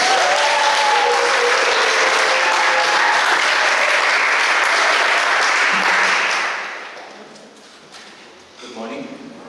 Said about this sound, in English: Big applause for Shaba.